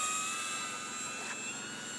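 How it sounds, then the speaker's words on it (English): A Dynam PT-17 RC model biplane, a World War II trainer replica, flies overhead with its engine giving a steady, continuous whine and drone at full power, with no voices. "we are flying a World War II trainer biplane with only lower ailerons"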